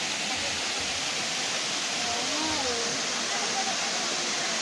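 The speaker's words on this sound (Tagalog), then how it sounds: "Ayan yung ano, falls nila." Water from Bolinao falls pours in a steady, dense rush with no break, and faint voices of people talking can be heard under the noise.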